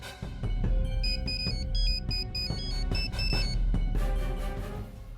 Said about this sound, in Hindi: बुलबुल को फोन करके पूछती हूँ वो कहाँ है